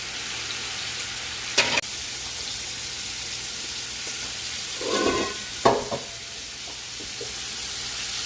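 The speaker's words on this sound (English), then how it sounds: "let them saute a little bit, then the onions, and last we'll do the garlic" Green peppers and onions sauté in a pan for Cuban oxtail, a steady bright sizzle throughout, broken by a couple of scraping stirs and a soft clatter of the utensil.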